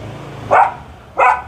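A Belgian Malinois gives two sharp barks about half a second apart, close and loud over a low steady hum, with no talking.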